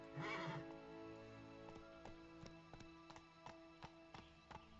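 Horse in the Witcher 3: Blood and Wine game, an opening loud whinny followed by a steady run of hoofbeats thudding in rhythm over a sustained droning ambient music bed.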